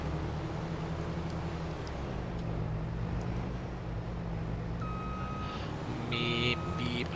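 Vehicle reversing beeps in Farming Simulator 22, steady tonal beeps over a low engine drone, ending in a short burst of louder electronic tones; someone speaks briefly.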